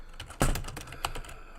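A computer keyboard, one of its legs broken, being typed on in a quick burst of sharp, close key clicks with one louder keystroke early on.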